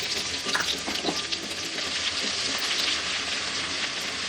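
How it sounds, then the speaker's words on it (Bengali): Cumin seeds and ginger-garlic paste fry in a hot wok with a dense, crackling sizzle, close and steady, with a few brief stirring scrapes early on and no voice heard. "আমি এখন কড়াইতে জিরে ফোড়ন দিয়ে দেবো একটুখানি, আর দিয়ে দেবো এই আদা রসুন বাটাটা"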